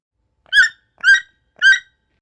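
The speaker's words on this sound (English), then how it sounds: "Toucan." A toucan gives three short, evenly spaced croaking calls, each loud, bright and separated by silence.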